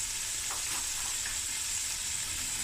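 Two fat cloves of garlic frying lightly in a pan for a seafood boil, giving a continuous close, even sizzle with no talking.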